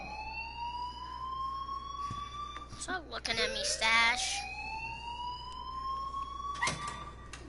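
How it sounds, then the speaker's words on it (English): A rising, wailing electronic alarm in the game Life is Strange sounds in repeated sweeping tones, moderately loud, while a brief burst of voices talks over it midway. "please turn off that alarm since that's your job"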